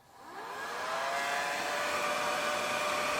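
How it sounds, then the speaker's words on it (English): A hair dryer on its lowest setting, drawing 400 watts from a portable power station, starts up and settles into a steady, fairly loud whirring hum with a faint whine, running continuously with no talking. "I'm going to try this hairdryer now on the lowest setting"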